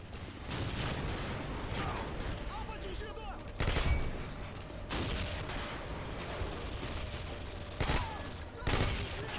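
Repeated gunfire in Modern Warfare 2 as barrels are shot, with loud bursts and single cracks over a busy game soundscape of mechanical clatter; a voice speaks intermittently.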